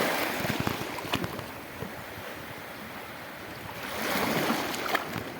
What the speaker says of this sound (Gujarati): ફેમિલી મોજાનું જુઓ